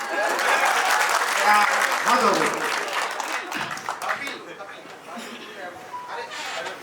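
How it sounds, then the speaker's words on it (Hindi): Applause from a large audience gathered at a company's 25th anniversary celebration, loud and dense at first then thinning out, with someone talking over it. "तो ताली बजा दो यार"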